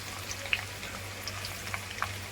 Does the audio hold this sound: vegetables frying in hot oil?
yes